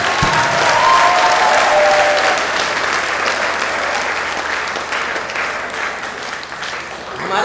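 Enthusiastic audience applause at a Hindi patriotic poetry recital, loud and continuous clapping from a large crowd lasting the whole stretch, with some voices mixed in beneath.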